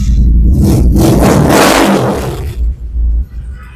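A YCR 250rr motorcycle roars loudly up close as its engine is revved hard, a sustained deep growl that swells and then drops into choppy bursts of throttle before easing off.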